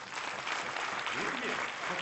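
Audience applause at a Shiv Sena foundation day speech in Rangsharda hall, Bandra, a dense sustained burst of clapping with a voice faintly speaking underneath.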